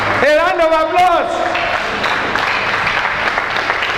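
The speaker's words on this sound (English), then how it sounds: "A round of applause for Jesus" A church congregation breaks into a round of applause, loud sustained clapping that rises under a voice calling out at the start, then continues as a dense, steady wash of hands.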